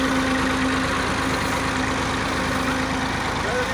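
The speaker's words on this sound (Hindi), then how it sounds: "ये देखिए मेरा छोटा भाई ट्रैक्टर चला रहा है" A tractor engine idles and runs steadily up close, a continuous low diesel rumble with a constant hum, loud throughout with no talk over it.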